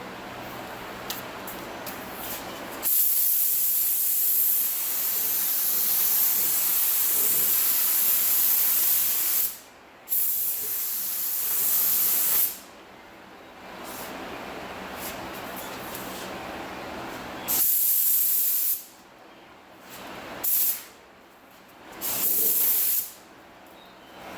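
Spray gun applying paint to the bodywork of a 2007 Honda Accord under deer-strike repair, long loud hissing passes close by, broken by short silent gaps as the trigger is released and pulled again.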